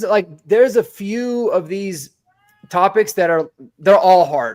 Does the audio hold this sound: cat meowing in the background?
yes